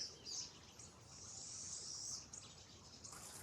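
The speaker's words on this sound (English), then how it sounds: "Can you hear the birds?" Faint bird chirps twitter in the distance over a quiet outdoor background hiss.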